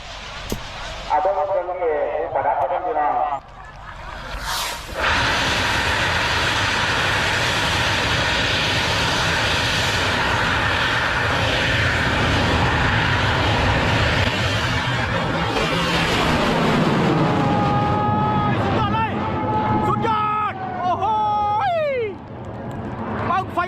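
A bamboo rocket launches at the Bun Bang Fai festival in Yasothon, Thailand. A sudden blast opens into a loud, continuous roaring whoosh that lasts many seconds before thinning into crowd cheers and whistles, with voices heard throughout.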